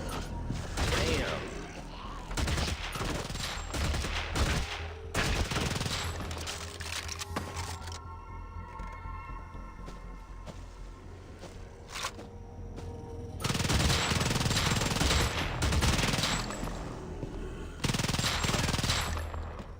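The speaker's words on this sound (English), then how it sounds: "I love the way that SMG sounds" An SMG fires in a VR shooter: loud rapid bursts of automatic gunfire in several clusters, with a quieter stretch of mechanical rattling in the middle before the heavy bursts return.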